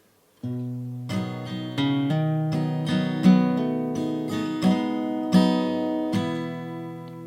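An acoustic guitar plays a sequence of strummed and picked chords stepping downward from G6, each ringing out clearly in a slow, even rhythm.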